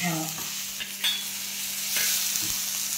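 Green chillies and salt sautéing in a hot pan with oil, stirred steadily with a spoon; close, continuous frying sizzle under repeated scraping and clinks of the stirring, with no voices.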